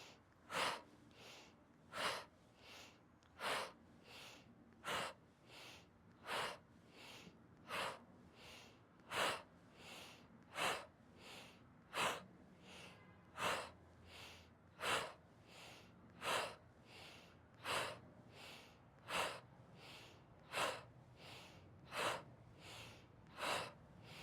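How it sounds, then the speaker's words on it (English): Rhythmic breathing exercise of slow inhales and fast, sharp exhales, about sixteen forceful breaths repeating at a steady pace, close and without talk. "So inhale, slow inhale, fast exhale with the fist"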